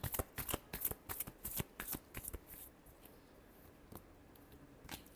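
Tarot cards are shuffled in quick riffling bursts, close and crisp, for a few seconds before trailing off into quieter single card taps.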